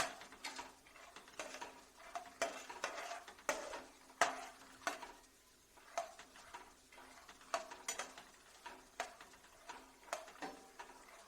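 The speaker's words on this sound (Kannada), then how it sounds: "ಇದ್ರಾಗ ಸಾಸಿವೆ, ಜೀರಿಗೆ ಹಾಕ್ಬಿಟ್ರೆ ಎಣ್ಣೆ ಕಾಯ್ದಿರ್ತದ, ಅಲ್ಲೇ ಚಟ್ ಚಟ್ ಅಂತ" Mustard seeds and cumin pop in hot oil, sharp irregular crackles coming in quick scattered bursts, close and fairly quiet.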